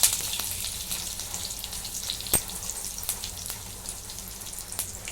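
Close, crackling sizzle of mustard seeds, cumin and curry leaves popping in hot oil in a kadhai, with sharp irregular snaps and pops over a soft frying hiss.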